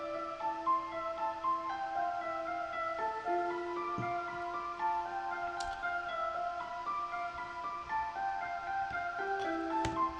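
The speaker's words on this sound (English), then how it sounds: "I took that same original melody and I just raised it up a little bit," Eerie, spacey synth melody for a future-style beat, shifted up one semitone, with sustained airy tones and a few soft clicks, quiet and alone with no talking.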